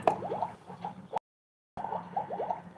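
A tablet drops into liquid during a home science experiment, giving soft wet plops and bubbly gurgling fizz up close, with a brief cut to silence in the middle.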